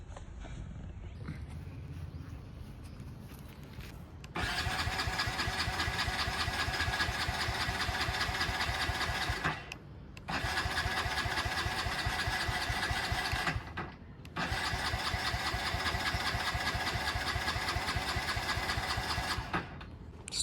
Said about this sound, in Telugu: బైక్ అయితే స్టార్ట్ అవ్వట్లేదు.